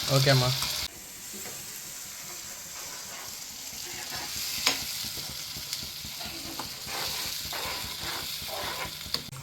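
Masala sizzles and crackles in hot oil, a steady frying hiss with a few sharp pops, scraping stirs now and then, no talking.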